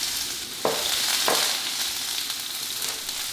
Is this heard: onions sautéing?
yes